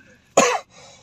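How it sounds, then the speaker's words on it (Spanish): A single sharp cough close to the microphone, one harsh burst followed by a faint breathy tail, during a walk on the way to Chipinque. "¿Por qué me grabas tosiendo?"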